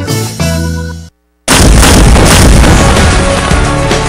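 Pyrotechnic fireworks blasts in a Central American fireworks company's radio advertisement, a loud dense barrage of booms and crackles after a short musical lead-in and a brief silent gap.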